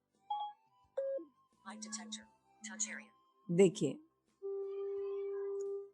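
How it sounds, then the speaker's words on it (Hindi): A light detector phone app for visually impaired users sounds a series of electronic tones of shifting pitch, from short beeps and chirpy bursts to a long held tone at the end, with a brief spoken word near the start. "कुछ इस तरीके की साउंड आपको सुनाई देगी, तो आपको आइडिया लग जाएगा कि यहाँ पर लाइट है।"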